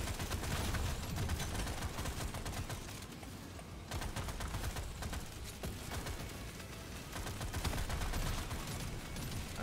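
An automatic turret firing in the video game Deep Rock Galactic Survivor, a rapid, continuous rattle of shots mixed with game effects, steady and fairly loud with short dips.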